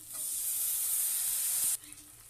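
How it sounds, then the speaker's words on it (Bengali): Tomatoes frying in a pan with chili paste, salt and turmeric give a steady, loud sizzle for nearly two seconds, which then cuts off abruptly to a faint hiss. "দেবো কাঁচা টমেটো, পাকা টমেটো।"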